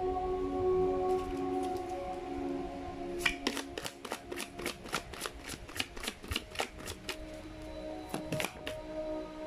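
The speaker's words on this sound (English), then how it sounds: "Let's actually pull up more cards here." Oracle cards shuffled and pulled: a quick, even run of crisp card flicks close by, then a couple more flicks, over a faint steady hum, with no talking.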